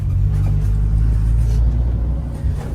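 An airfield runway inspection vehicle drives onto runway 07 at a small aerodrome, its engine a loud steady low rumble heard close from inside the cab, with no talk.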